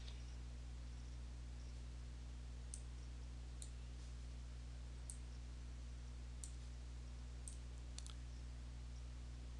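A computer mouse is right-clicked while editing a word-processor document, giving about eight faint, sharp clicks spaced irregularly over a steady low electrical hum in a quiet room.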